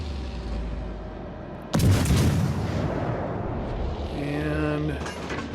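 A Tier 6 premium cruiser firing its main guns in World of Warships Legends, one heavy booming salvo followed by a long rumbling tail and a whistling shell sound, with faint game sounds before.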